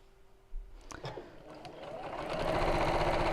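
A sewing machine stitches fabric pieces together for a reverse heart appliqué pouch: a few soft clicks and handling sounds first, then the motor starts and builds into a steady, fast, close mechanical whir.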